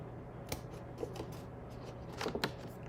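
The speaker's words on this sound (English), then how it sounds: "let's cut away these inner tabs" Soft scissor snips trimming the inner tabs of a paper star, a few quiet crisp cuts spread out over a low background hum.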